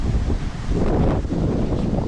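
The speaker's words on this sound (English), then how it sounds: "This will be a good test of our windscreen we rubber band on because it's pretty windy out here." Steady loud wind on a beach at Perdido Key, Florida buffets the microphone, a continuous rumbling roar with gusty swells and no voices.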